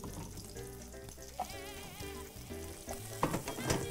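Onions frying in a pan give a steady, close sizzle, with a few stirring clatters toward the end, all under prominent background music.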